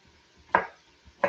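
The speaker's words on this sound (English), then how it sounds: "we're just chopping it up, skin and all." A knife chops through scrubbed garnet sweet potato with the skin on, striking a cutting board in two sharp, close thuds about half a second apart, with quiet pauses between.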